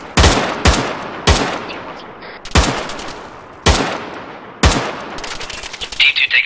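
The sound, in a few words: suppressing gunfire during fireteam training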